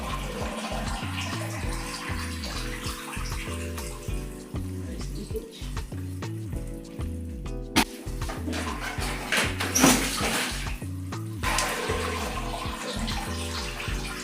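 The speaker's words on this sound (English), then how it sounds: "Let's pour plenty water here." Water poured steadily into a bathroom sink drain after a wastewater drain replacement, a continuous splashing rush running the whole time over rhythmic background music.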